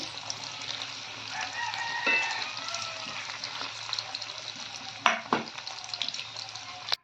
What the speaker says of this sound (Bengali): আমি উনুনে ভাজছি, জালটা বাড়িয়ে কমিয়েই ভাজছি।